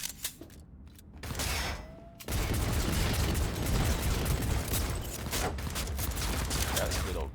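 Gunfire in the video game Cyberpunk 2077 on Very Hard difficulty, with sparse shots at first and then a dense, continuous barrage of rapid shots and impacts filling the rest of the scene, loud and close.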